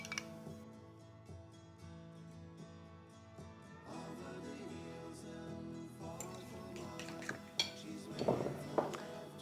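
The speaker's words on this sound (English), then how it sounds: "Then I'm going to mix my wet ingredients. That's the melted margarine, the banana, and the eggs." Melted margarine, mashed banana and eggs being mixed in a bowl for banana bread, with soft clinks and scrapes of utensil against the dish, faint and fairly steady, building to a few louder knocks near the end.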